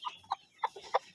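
A young black chicken of a Leghorn-type selection line gives four short clucks in a quick, evenly spaced series, heard close and fairly quiet with nothing else in the background.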